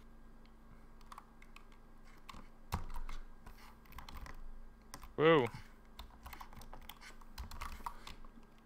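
Clattering keystrokes on a very old computer keyboard, a close, irregular run of clicks and taps with a few louder presses, while a voice briefly exclaims.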